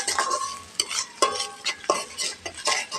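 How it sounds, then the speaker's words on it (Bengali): Onions frying in a wok, a soft sizzle broken by rhythmic scraping and stirring strokes of a spatula against the pan, repeated about every half second, close and clear. "পেঁয়াজগুলো আমি এখন লাল করে ভেজে নেব।"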